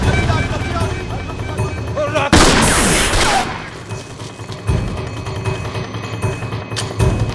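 A gunshot rings out in a Hindi movie, a sharp loud broadband crack that opens a noisy burst lasting about a second over ongoing scene sound, followed by more busy action noise with people talking.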